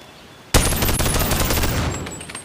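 Lever-action gun in the Bonelab VR game fires with a sudden loud, sharp report, followed by a dense rattling, reverberant tail that slowly fades over about two seconds, with no talk.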